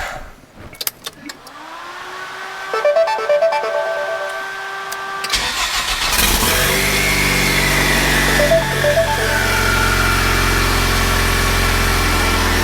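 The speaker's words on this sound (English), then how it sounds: "We're gonna fire her up, see how she does." A turbocharged EcoBoost engine in a DeLorean cranks and fires after about two weeks of sitting, then settles into a steady, loud idle with a continuous drone. Faint clicks and whirs come before the start.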